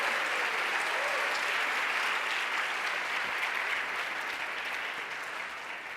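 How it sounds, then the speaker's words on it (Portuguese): A church congregation gives a strong round of applause during a sermon. The dense, steady clapping fills the room and tapers off slightly toward the end. "uma forte salva de palmas à palavra de Deus"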